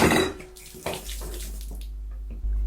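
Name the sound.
water being spilled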